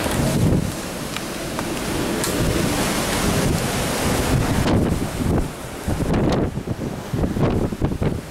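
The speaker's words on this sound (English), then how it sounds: "But yeah, I'll show you the ocean." Wind roars across the microphone over the ocean surf aboard the cruise ship Oasis of the Seas, a loud continuous rushing with gusty swells.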